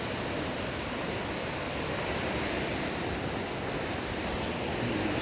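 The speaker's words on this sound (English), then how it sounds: "gonna give you a shot of the river." A river flows below a ridge near the Colorado Trail, giving a steady, dense rushing wash of water that holds at an even level throughout, with no voices over it.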